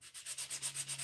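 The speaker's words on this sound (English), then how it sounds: "I'm going to start sanding this thing down" A Japanese santoku kitchen knife is sanded with 100 grit sandpaper in quick back-and-forth strokes, about nine even rasping passes in a steady rhythm, close and clear, with no talking.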